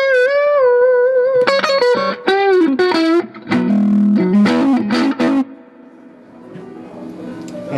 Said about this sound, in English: Turning up the drive.